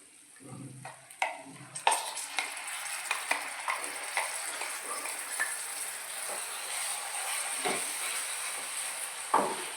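Onion paste sautéing with spices in a pan for a Maharashtrian soybean gravy masala: a soft, steady sizzle with intermittent scraping and stirring knocks, fairly faint and close.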